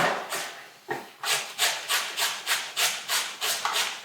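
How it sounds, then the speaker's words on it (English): Peeled swede is rubbed down a metal box grater in quick, regular strokes. A dozen or so rasping scrapes come close and clear at an even rhythm, with no talking. "we grated the Swede now, peeled it, grated it on the box grater"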